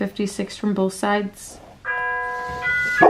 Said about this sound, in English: that is my doorbell.